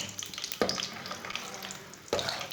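Cashews fry in about three-quarters of a cup of oil in a pan, giving a continuous low sizzle with two distinct stirring scrapes.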